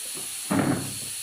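Greens cooking on a griddle give off a sudden, brief hiss of steam that swells for about half a second over a quiet kitchen background, then fades back down.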